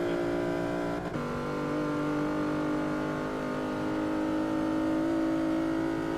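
A Plymouth Prowler's engine drones steadily and loud in a Forza 6 race, holding a sustained note that rises slightly as it accelerates, with no talk over it.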